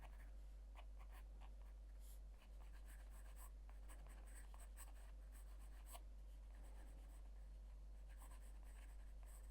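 Steady scratchy strokes of a pencil sketching on paper, close and intimate, with a quick rhythmic scraping that runs continuously under a low hum.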